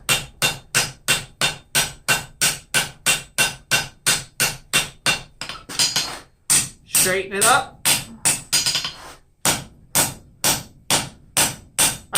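Light hammer on hot steel, forging railroad spike tongs: a long run of steady, evenly spaced ringing blows, close and loud, broken by a short pause with a spoken remark, then the hammering resumes at the same pace.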